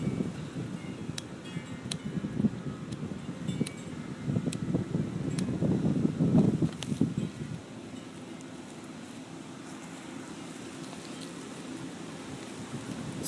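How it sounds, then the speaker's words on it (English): Strong wind blows outdoors, gusting into the microphone as a low rumbling buffet that swells loudest midway and then eases to a steadier, quieter rush. "Sorry, it still is really windy out."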